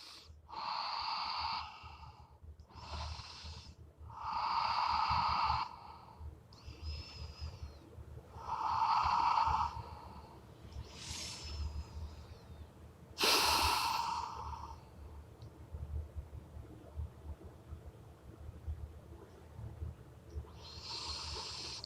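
Slow, audible breathing during a yoga forward fold: several breaths at a steady, unhurried rhythm, close and fairly soft, with no talking.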